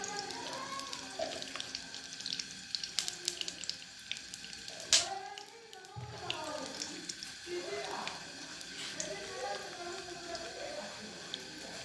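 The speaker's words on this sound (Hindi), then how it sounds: "अब हम इसमें प्याज डालेंगे।" Onions go into melted desi ghee, bringing a soft, close sizzle and spitting with scattered crackles and small clinks, running steadily under a woman's speech throughout.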